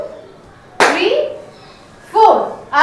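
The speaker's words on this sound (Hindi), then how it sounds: "ताली आपको ऐसे ऊपर बजानी है, लाइक दिस।" Two sharp hand claps ring out during garba dance steps, spaced about a second and a half apart, close and loud in a quiet room, with a brief third clap starting at the end.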